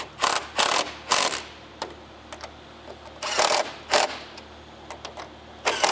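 A torquey impact gun fires in several short, loud bursts with brief pauses between them while titanium A-arms are installed on a Polaris Khaos snowmobile. The bursts are close and there is no talk.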